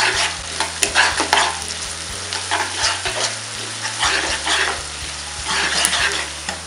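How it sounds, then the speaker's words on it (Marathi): Finely chopped onion frying in hot oil for an egg masala, a steady bright sizzle with repeated stirring scrapes and clinks of a spoon against the pan, close and continuous with no talk. "तेल तापल्याच्या नंतर आपल्याला हा बारीक चिरलेला कांदा आहे तो टाकायचा आहे"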